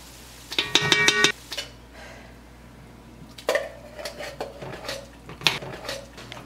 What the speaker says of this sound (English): So I am going to go ahead and add the tomato paste.